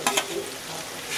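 Ginger paste and chili paste stir-frying in a pan for a Bengali home-style chicken curry, with a steady close sizzle and a couple of sharp stirring scrapes near the start.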